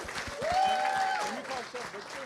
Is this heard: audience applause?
yes